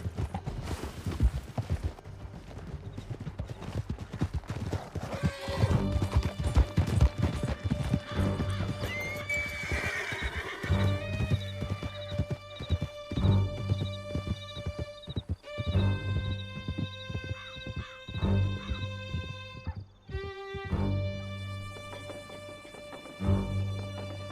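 Horses galloping in Red Dead Redemption 2 during a canyon escape, steady clip-clop of hooves with repeated neighs and whinnies, loud and close, mixed with game music and occasional crashes.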